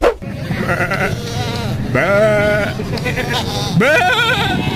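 Goats bleat loudly and close up at a livestock market ahead of Bakra Eid, with several long wavering cries spread through the moment over a noisy background.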